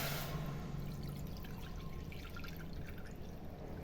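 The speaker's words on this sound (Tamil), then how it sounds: "நம்ம கடாயில் தண்ணி விட்டுக்கலாம்." Water is poured into a kadai pan in a home kitchen, making a continuous splashing trickle that stays steady for several seconds.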